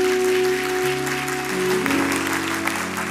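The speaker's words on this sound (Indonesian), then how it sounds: "Tepuk tangannya kayak orang sakit gigi" Church congregation applause fills the room, dense continuous clapping at moderate loudness over sustained keyboard chords that shift midway, with no talk.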